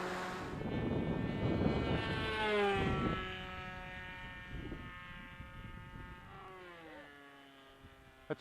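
A model airplane engine idles with a high, buzzy whine that holds steady, then slowly drops in pitch as it settles to its lowest idle, heard close and alone.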